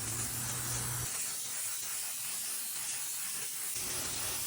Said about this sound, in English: I am spraying a 4:1 High Solids Transtar